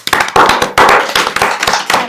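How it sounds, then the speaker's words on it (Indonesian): A small group claps in a podcast studio, with close, sharp hand claps arriving in short uneven bursts separated by brief pauses. "tepuk tangan untuk juga untuk anggota siar ya."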